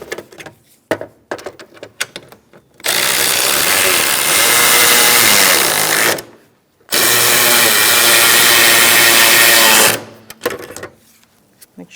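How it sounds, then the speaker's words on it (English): A power tool whirs loudly and close in two sustained bursts of about three seconds each, separated by a brief pause, while radiator bolts are tightened on a 2007-2017 Ford Expedition 5.4L V8, with quieter clicks and handling before and after. "Now we're going to tighten down these bolts."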